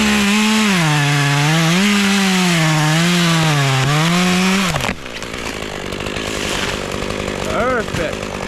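A chainsaw runs loud and close as it cuts a hinge to fell a tree, the engine pitch wavering under load for several seconds before dropping off and giving way to rough cutting and rubbing noise with a voice faintly present.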